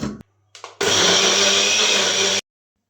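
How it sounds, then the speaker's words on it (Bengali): Mixer grinder running loud and steady for about a second and a half, blending boiled, peeled sweet potato pieces with milk into a paste for pua pitha, after a couple of short starts, then stopping. "সেদ্ধ করা রাঙা আলুর প্রথমে খোসা ছাড়িয়ে টুকরো করে মিক্সিতে দিয়ে দিচ্ছি। তারপর দুধ দিয়ে পেস্ট করে নেব।"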